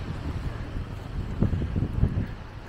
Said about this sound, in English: The wind is a little cold